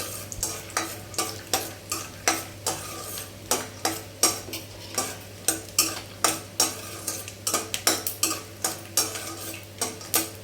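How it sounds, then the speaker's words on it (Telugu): Peanuts frying in hot oil in a pan, a steady sizzle broken by a regular series of sharp scrapes and clinks as a spoon stirs them, close and fairly loud. "ఆయిల్ కాగిన తర్వాత పావు కప్పు పల్లీలు వేసుకున్నాను అవి కొంచెం ఎర్రగా వేయించుకోండి"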